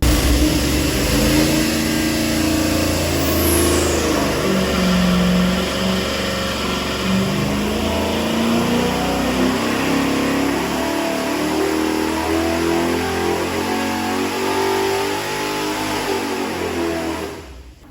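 A 9.3-litre big block Chevy V8 runs on an engine dyno, a loud, close, continuous rumble that rises and falls in pitch with the revs, then cuts off abruptly at the end.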